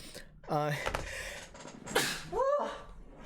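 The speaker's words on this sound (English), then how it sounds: "I really have to sneeze." A voice gasps and builds up, then lets out a sudden sharp allergy sneeze, followed by a short vocal exhale; close and fairly loud.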